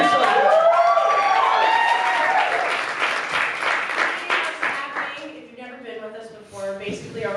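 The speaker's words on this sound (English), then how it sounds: "So give yourselves a round of applause." An audience at a poetry show applauds loudly, dense clapping mixed with cheers and whoops, then thins into scattered claps as a voice begins speaking over the fading noise.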